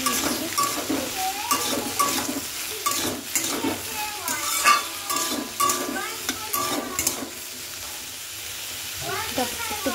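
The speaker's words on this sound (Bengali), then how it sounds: "এবার আলু আর বেগুনটাকে ভালো করে একটু ভাজা ভাজা করে নেব।" Potato and eggplant frying in a pan with black cumin, a continuous close sizzle with stirring scrapes, overlapped by intermittent voice-like bleating sounds in the background.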